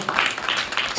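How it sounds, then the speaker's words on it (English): Church congregation clapping hands, a brief dense patter of many claps mixed with voices and a preacher talking over it. "Come on and clap your hands"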